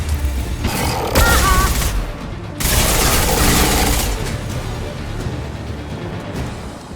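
Rapid gunfire bursts in the Mass Effect Legendary Edition video game: loud, dense volleys of shots come in two heavy waves, then trail off into quieter mechanical rattling.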